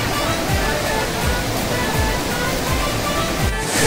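A waterfall roars in a steady, loud broadband rush of falling water that fills the whole scene, with no break in the flow and no clear voices.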